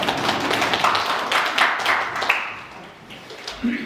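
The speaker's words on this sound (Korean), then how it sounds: "박수로 모시겠습니다." An audience at a Jirisan community gathering claps to welcome a speaker, with scattered, fairly faint hand claps that thin out toward the end.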